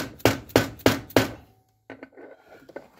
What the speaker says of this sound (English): you can hit them in there, or you can take a socket or a bearing or seal driver.